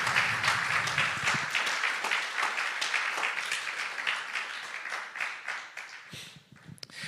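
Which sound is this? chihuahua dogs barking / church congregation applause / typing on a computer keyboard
church congregation applause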